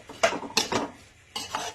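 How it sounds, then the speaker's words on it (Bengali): Fish being stirred and fried in a pan, with three or four short scraping, clattering strokes of a utensil against the pan and a faint sizzle between them. "একটু নাড়াচাড়া করে নিই। এবার মাছটা দিয়ে কষাতে থাকবো সমান।"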